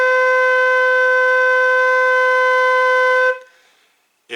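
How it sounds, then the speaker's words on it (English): A flute holds a steady B natural, played with the thumb and one finger down, for about three seconds before it cuts off, with a faint click at the end, alone and close. "that note's called B natural"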